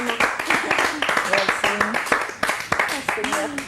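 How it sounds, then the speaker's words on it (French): A studio audience on a television show applauds, a close, lively burst of clapping with distinct hand claps, while a host's voice talks over the applause. "On va dire merci à Awa avec des applaudissements"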